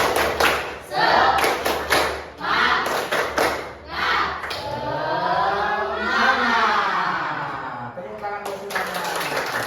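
Children in an Indonesian primary classroom perform the tepuk semangat clapping chant, loud sharp claps in a set rhythmic pattern alternating with shouted group chanting, then a long sung vocal phrase as the clapping stops.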